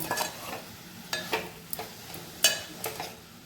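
Dill greens and moong dal stirred in a pan, with a series of light scraping, rustling strokes at irregular intervals and a faint sizzle beneath, close and fairly quiet.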